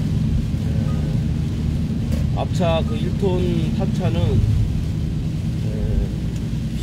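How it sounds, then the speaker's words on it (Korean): Heavy rain drums steadily on a car driving on a toll road, a dense constant wash throughout, with someone talking over it. "여기 지금 비가 엄청 많이 옵니다."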